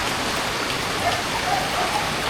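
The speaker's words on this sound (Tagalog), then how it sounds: "Umulan." Rain falls outdoors as a steady, even hiss of drops with no voices over it.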